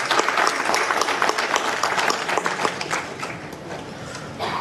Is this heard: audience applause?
yes